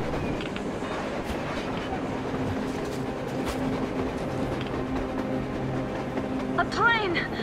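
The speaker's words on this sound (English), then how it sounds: "A train! A damn train on the surface!" A train rumbles past in the video game Metro Exodus with a steady rolling clatter, a brief high screech of wheels near the end.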